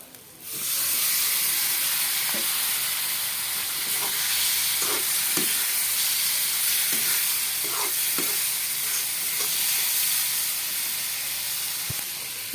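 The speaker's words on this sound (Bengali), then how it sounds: "এখন এটা ভালোভাবে কষিয়ে নেব আমার মশলা কষানো হয়ে গেছে এর মধ্যে এই যে ট্যাংরা মাছগুলা দিয়ে দিব" Tangra fish frying in a spiced masala, with a steady loud sizzle and hiss throughout and occasional stirring scrapes and clicks, no voices.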